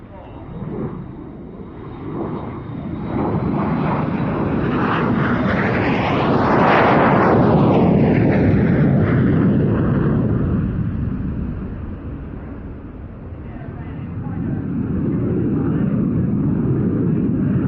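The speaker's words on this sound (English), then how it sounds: "The Blackburn Buccaneer, built as a carrier-borne strike aircraft, was given a new lease of life for the RAF in the late 60s" A Blackburn Buccaneer carrier-borne strike jet passes at an airshow, its loud jet roar building, peaking overhead and fading away over about eighteen seconds, with a commentator's voice under it.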